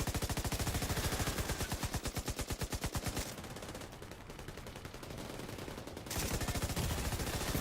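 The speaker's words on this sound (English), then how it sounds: "I'm taking heavy fire!" Heavy automatic gunfire in a video game: loud, rapid sustained bursts for about three seconds, a quieter rattling stretch, then the dense fire resumes close and steady.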